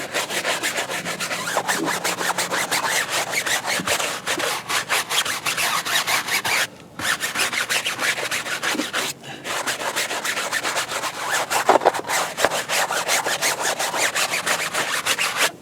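A brush scrubs a grimy, long-unwashed tire coated in citrus degreaser outdoors in direct sunlight, making a loud, steady rasping scrub with rapid back-and-forth strokes and two brief pauses, no talking.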